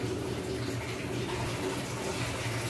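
Rice stirred into boiling water in a pot for chicken pulao, a steady bubbling and watery churn throughout, fairly loud and close with no voices.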